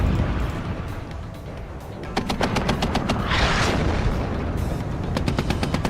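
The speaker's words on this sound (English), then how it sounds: "I think that's another artillery barrage incoming." Rapid bursts of gunfire and heavy booms from an artillery barrage in the war strategy game WARNO, with a dense run of close shots and explosions building up midway.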